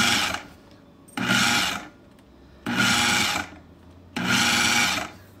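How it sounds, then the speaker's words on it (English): A food processor pulses pizza dough ingredients for a cast iron skillet cheese pizza, four loud whirring bursts of about a second each separated by short pauses, close by with no talking. "Now I'm going to turn this on, and it's going to be kind of loud. You want to pulse it about 4 to 5 times"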